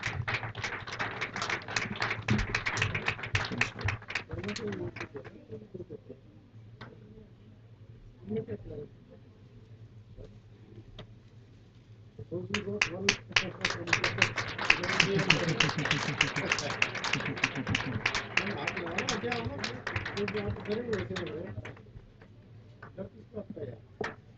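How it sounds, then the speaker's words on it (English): Applause from a job fair audience greets officials called on stage, in two long stretches of dense clapping separated by a quieter gap with an announcer speaking. "Give a huge round of applause"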